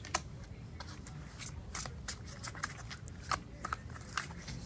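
Tarot cards are shuffled and drawn by hand at close range, with soft riffling and a run of crisp papery flicks and snaps over a faint steady background hiss.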